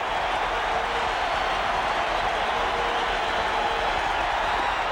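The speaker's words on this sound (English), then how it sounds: "Listen to the crowd." A big baseball stadium crowd at a 1978 World Series game between the Dodgers and Yankees keeps up a steady, loud roar of distant cheering that fills the whole moment evenly.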